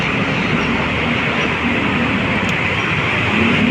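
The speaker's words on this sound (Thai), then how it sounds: "สถานีรถไฟฟ้า อ่อนนุช" A BTS Skytrain runs through On Nut station in Bangkok, a loud, steady rumble of train and rail noise that holds for several seconds with no voices.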